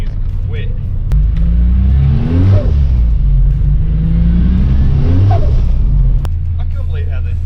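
A twin-turbo 3.8-litre V6 Holden VU Ute accelerates hard, its loud, close engine note climbing through two strong rising surges and then settling back to a steady rumble.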